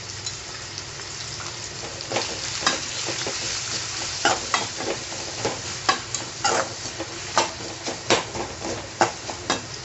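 Onions with chilli and turmeric sauté in a pan for a besan masala side dish, a steady oily sizzle beneath repeated sharp scrapes and taps of a spatula stirring, close and loud with no talk.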